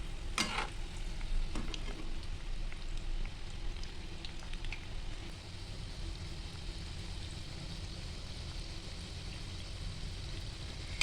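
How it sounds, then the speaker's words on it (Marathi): Shankarpali, a sweet crispy snack, fries in oil on a low gas flame, giving a steady soft sizzle and bubbling with a few clinks of a utensil near the start. "कमी गॅसवर तळून घेतोय आपण"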